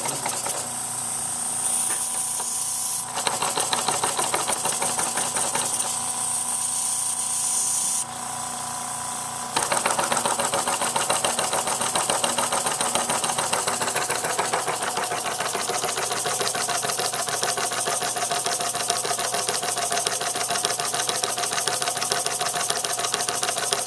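Small oscillating steam engines run by engineering technology students chug with a steady, fast mechanical rhythm, a continuous close clatter and hiss filling the whole stretch without talk.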